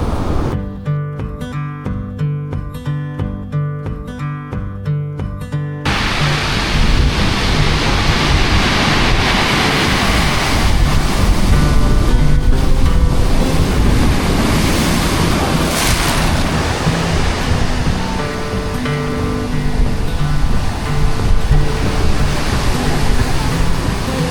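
Large sea waves crash and roar beside a sea-view cabin at Real, Quezon, as strong wind buffets the microphone. The noise is loud and continuous, with a brief musical passage at the start.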